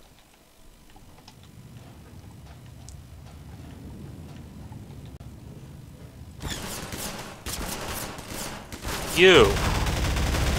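Rapid gunfire in the video game Half-Life 2, a burst of dense crackling shots that starts partway through and stays loud to the end, with a brief shout in the mix.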